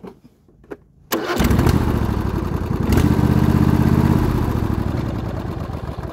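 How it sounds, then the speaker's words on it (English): An MTD Cub Cadet lawn tractor engine with about 475 hours, on a machine with faulty forward and reverse, cranks and catches after a quiet moment, then runs loud and steady at close range. "The engine runs perfect."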